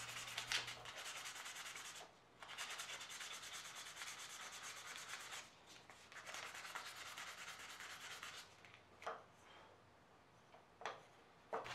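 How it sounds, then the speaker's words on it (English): Sandpaper rubs by hand across the front face of a knife handle scale in steady strokes, close and continuous with a few brief pauses and no talk. "then hand sanding the front face of the scale"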